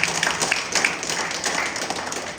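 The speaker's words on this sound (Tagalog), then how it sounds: "malakas na palakpak para sa ating Panginoon" A church congregation applauds for the Lord after an Easter resurrection sermon, a dense, steady patter of many hands clapping, fairly loud and continuous throughout with no talk over it.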